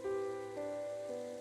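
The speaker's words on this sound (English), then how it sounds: "The rain continues to fall." Steady rain falls as an ambient effect in the video game Psychedelica of the Black, a faint, even patter heard beneath sustained musical tones.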